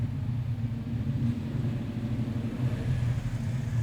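A notchback car with a Ford Coyote V8 rumbles nearby as it pulls out for a test drive, a deep throbbing exhaust burble that holds steady with slight swells, and no talking.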